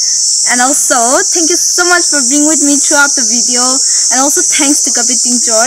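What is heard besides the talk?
crickets chirping on a sunny spring day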